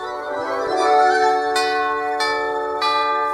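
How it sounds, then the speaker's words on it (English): Christmas bells ring out in a sustained, resonant chime, with fresh strikes about every half second to second layering over a lingering hum. "every time you hear the sound of Christmas bells"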